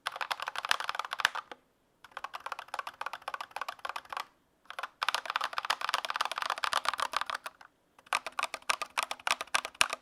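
Mechanical keyboard keys with no rubber O-rings typed close up in several rapid bursts, each a dense run of sharp clacks with short silent gaps between.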